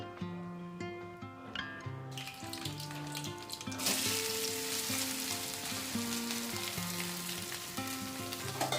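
Ivy gourd pieces sizzle in hot oil after tempering spices, the frying swelling louder partway through, with background music playing throughout.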